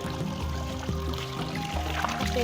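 Water pouring out onto a room floor in a continuous splashing stream, with a low hum running underneath.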